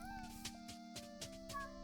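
Cats meow in the cozy video game Cozy Grove, a few short tonal game meows repeating over a soft steady musical background, quiet and with no talking.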